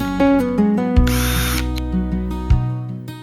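Power drill driving screws to fit 2-inch hinges on a scrap-wood box, short close whirring bursts with rising and falling motor pitch and ratcheting clicks, loud and without talk.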